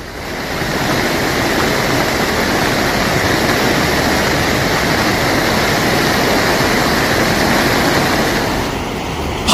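Heavy monsoon rain and flood water in India, a dense, constant roar of rushing water and downpour that stays loud and unbroken from start to finish.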